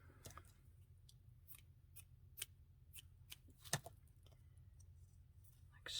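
Scissors snipping through a piece of cheesecloth, a series of quiet, irregular crisp snips over a low background hum, close but faint.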